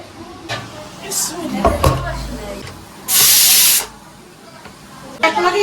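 Steam hissing out as the lid of a pressure cooker holding cooked beef is opened, a loud sustained spray lasting under a second, with clanks and handling noises around it and someone talking.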